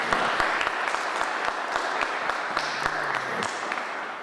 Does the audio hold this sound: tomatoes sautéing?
no